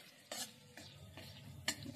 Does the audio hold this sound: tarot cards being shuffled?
no